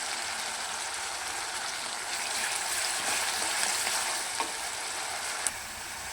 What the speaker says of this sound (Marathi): याच्यामध्ये आपण बारीक केलेला मसालाही चांगला फ्राय करून